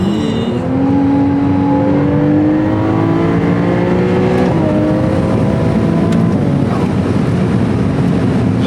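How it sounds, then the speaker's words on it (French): A Ferrari 296 GTS in hybrid mode accelerates hard on a motorway, its engine and turbo rising steadily in pitch through the gears, loud and continuous from inside the cabin. "J'adore le bruit du turbo qu'on entend."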